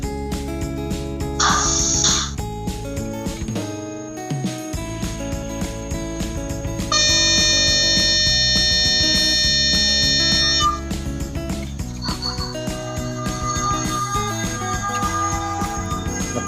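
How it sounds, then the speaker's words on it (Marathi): A Märklin toy train engine runs on a model track with a continuous mechanical hum and rattle, broken by a couple of sustained bright horn tones that sound loud and close. "आता इंजिन स्टार्ट झालेलं आहे"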